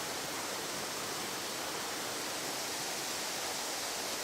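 A steady, dense roar of the Fuas waterfall in Friuli, Italy, loud and unbroken throughout, with no voices.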